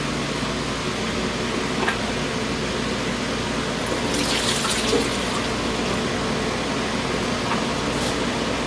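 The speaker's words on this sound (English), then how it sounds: "Had to empty the fluid out of my extractor here." Used transmission fluid from a 2015 Toyota Tundra transmission service pours out of a fluid extractor, a steady, close rushing and splashing flow that continues without a break and with no talking.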